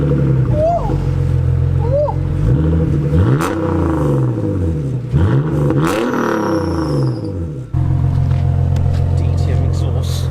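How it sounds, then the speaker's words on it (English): An old BMW that has sat unused for five years cranks and fires up, its engine roaring and revving through rising and falling sweeps, loud and close, with people talking over it. "we'll get a mighty start up"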